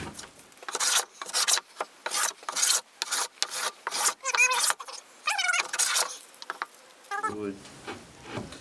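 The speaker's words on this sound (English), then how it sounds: "this is some of the most brittle wood I think I've ever planed" A hand plane is pushed over very brittle wood, about a dozen rhythmic rasping strokes close by, each a short scraping swish, with a few squeaky scrapes near the end.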